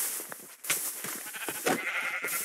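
Sheep bleating in Minecraft, a few short nasal bleats at close range over soft background game noise, with no talking.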